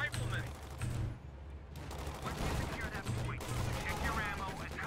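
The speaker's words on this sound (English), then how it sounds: "I've got some crossfire with my scout car" Gunfire from a scout car in Company of Heroes 2 crackles in rapid bursts, overlapping volleys of shots with a low pulsing battle rumble beneath and more shooting scattered throughout.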